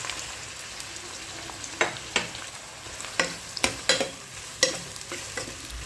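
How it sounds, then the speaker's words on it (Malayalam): Thinly sliced onions fry in hot oil for chicken majboos, a steady crackling sizzle punctuated by sharp, irregular scrapes and taps of a spatula against the pan. "അത് ഈ ചൂടായ എണ്ണയിലേക്ക് ഇട്ടിട്ട് നന്നായി ഒന്ന് പൊരിച്ചെടുക്കാം."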